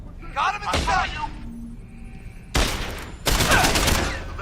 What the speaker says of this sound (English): That's a bullet